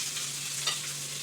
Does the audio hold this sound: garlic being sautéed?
yes